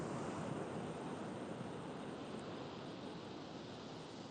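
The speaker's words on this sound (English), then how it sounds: "that's why I love the waves, because they don't stop" Ocean waves break continuously at Jones Beach, a steady, dense wash of surf and hiss with no pauses, fairly soft and unaccompanied by voices.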